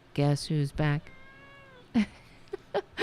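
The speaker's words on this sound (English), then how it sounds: "He always knows when the camera's looking at him, too, so he meows." A pet cat meows indoors, several drawn-out calls close to the microphone followed by shorter chirps, and a person speaks now and then between them.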